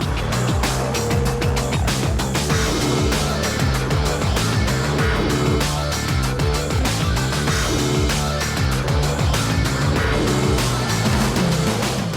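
A Ferrari 275 GTB races during the Tour Auto 2010 event, heading toward the Paul Ricard circuit. A loud, continuous engine roar dominates throughout, rising and falling with rhythmic pulsing as it drives on, with no voices.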